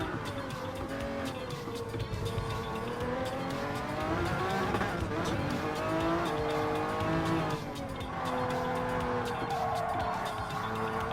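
A Group C race car accelerates hard on a test track, its loud, close engine note climbing and falling through repeated sweeps while faint tire noise runs underneath.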